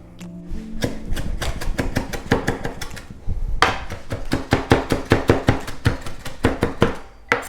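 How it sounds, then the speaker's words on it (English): Fresh basil being chopped with a knife on a board: a rapid run of sharp, close knife strikes in quick bursts, with a brief pause before a second steady series of even chops. "So we're gonna chop some basil."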